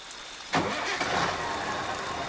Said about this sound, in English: Joe started the engine again.